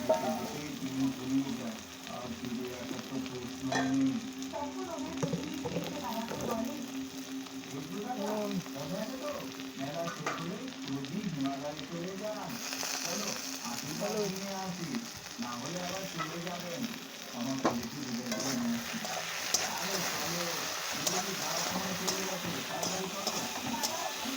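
Green chillies fry and sizzle in a pan with a soft, steady crackle, broken by intermittent scraping and stirring. A person talks quietly over the cooking.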